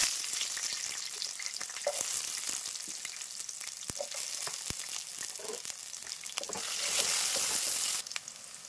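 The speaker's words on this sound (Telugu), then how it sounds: "2 రెబ్బల కరివేపాకు, సన్నగా తరిగిన మిరపకాయలు, అలానే వెల్లుల్లిపాయలు వేసుకొని బాగా వేయించాలి" Curry leaves, chopped green chillies and garlic frying in hot oil for a mutton kheema curry, a steady close sizzle with brief spatters and pops, swelling louder near the end, no talking.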